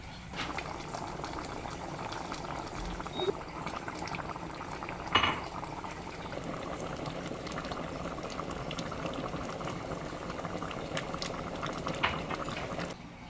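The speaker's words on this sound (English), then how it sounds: "I'm gonna let it simmer and come to a nice gravy. To a nice boil." Stew peas bubbling at a steady simmer in a pot, a continuous dense boiling texture with one brief clink of a lid or utensil midway, close and alone with no talk.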